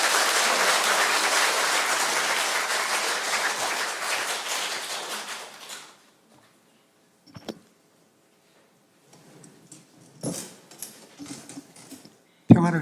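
An audience at an academic symposium on Franciscan spirituality breaks into dense applause that holds steady and then fades out around six seconds, followed by quiet room noise with a few scattered knocks and shuffles.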